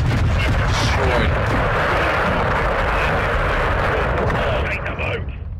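Sustained gunfire and explosions roar through a Call of Duty Modern Warfare 2 campaign battle, a dense continuous rumble of shots and blasts with an aircraft droning overhead, easing slightly near the end.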